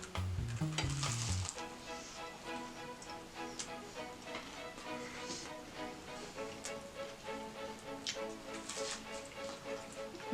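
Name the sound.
Crunchwrap frying in a pan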